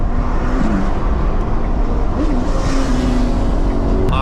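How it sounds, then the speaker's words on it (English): A Ferrari engine roars loudly and continuously at full throttle and high revs in a tunnel, the sound booming and reverberant, with pitch shifting slightly as it accelerates. "listen to this car at full throttle in the tunnel"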